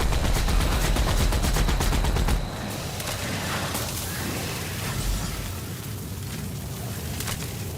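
Dense, rapid gunfire from combat in The Outer Worlds video game, a loud sustained fusillade of overlapping shots and booms that drops to a slightly quieter but continuous barrage of firing for the remainder.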